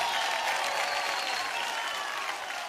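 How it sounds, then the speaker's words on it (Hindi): Loud, dense applause from a television comedy show's studio audience at a Filmfare awards segment, a steady wash of many hands clapping that fades slightly toward the end, with no talk over it. "दोनों के लिए जोरदार तालियां हो जाए जरा।"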